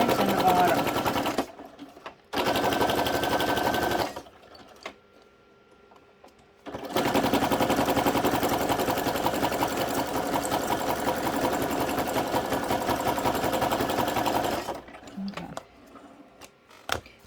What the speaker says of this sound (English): I'm just gonna sew this on the sides and the bottom